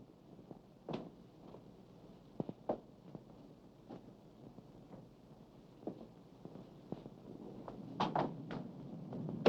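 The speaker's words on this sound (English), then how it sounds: "It sounded exactly as if someone was trying to pick the lock." An interior door in an old house at night rattles and clicks in a scattered series of faint knocks, growing louder and busier toward the end, as if someone is working at the lock.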